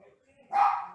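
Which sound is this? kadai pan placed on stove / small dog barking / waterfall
small dog barking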